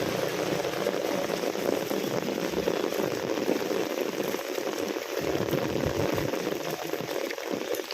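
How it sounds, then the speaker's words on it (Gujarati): Heavy monsoon rain pours steadily in Patan, a dense hiss and patter of drops striking surfaces, constant and close, with no voices. "વરસાદ ચાલુ થઈ ગયો ગાઈ જો મુસળધાર વરસાદ પડે છે"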